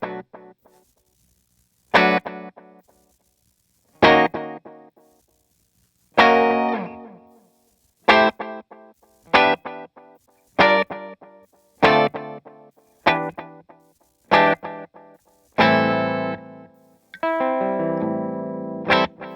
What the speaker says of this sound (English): I want to hear the delay just totally by itself.